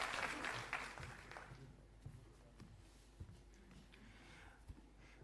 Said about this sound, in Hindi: मनीष सिसोदिया जी का जोरदार तालियों से स्वागत करेंगे